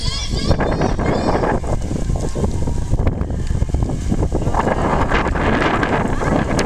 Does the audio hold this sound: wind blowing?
yes